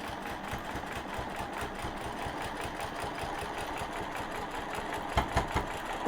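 A sewing machine stitches through a quilt, its needle running in a steady, rapid mechanical patter up close, with a few sharper knocks near the end as the stitching pauses.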